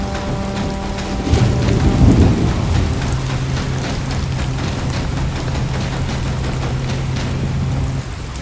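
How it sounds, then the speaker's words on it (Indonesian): Heavy, steady rain pours down on a hiking route high on Mount Slamet in Indonesia, and a deep rumble of thunder rolls through early on before the downpour continues alone. "cuacanya hujannya nggak berhenti, terus ada angin juga kan"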